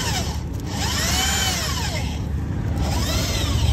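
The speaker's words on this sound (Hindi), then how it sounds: "हाँ ड्रिल करेंगे" Power drill boring into the body of a Suzuki Swift while a rear-view camera is fitted, a steady high whine with rising and falling pitch sweeps as the bit bites, close and continuous throughout.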